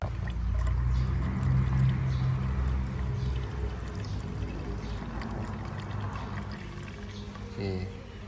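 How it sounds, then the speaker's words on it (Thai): Coolant poured from a jug into the radiator of a Tata CNG truck with a leaking water pump, a steady low gurgling pour running throughout under workshop noise, close and fairly loud. "เดี๋ยวเราจะเติมน้ำยาเข้าไปก่อน ให้มัน เขียวๆนะเราจะมาดูว่ามันรั่วออกรูไหน"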